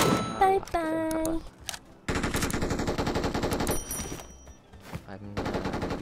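Machine-gun fire in PUBG crackles in long sustained bursts broken by brief pauses, loud and close, with game sound effects and short pings mixed in at the start.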